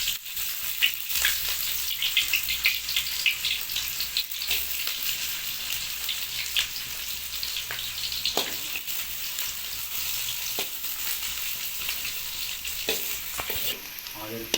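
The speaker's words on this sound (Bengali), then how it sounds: "অয়েল গরম হয়ে গেছে, এবার আমরা পেঁয়াজ দেবো।" Onions frying in hot oil for a carrot dish, a steady bright sizzle with occasional stirring clicks throughout, no voices over it.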